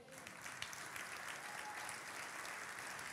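A congregation applauding during a church service, a soft, distant wash of many hands clapping steadily and evenly throughout.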